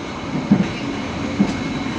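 A passenger train rolls through Kroya station in Indonesia, giving a steady rumble broken by two faint rhythmic wheel clacks, with no voices.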